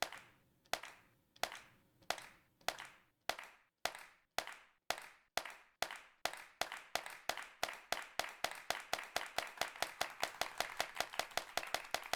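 Sharp hand claps in the video game Bits & Bops repeat alone, starting slow and spaced, then speeding up into a rapid, steady run of crisp claps.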